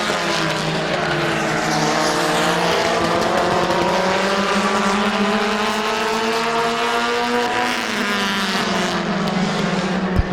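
Race cars roar in a close side-by-side battle for the lead on the Midvale Speedway oval during a fall classic race, a loud continuous engine drone with rising and falling pitch as the cars sweep past, no voices.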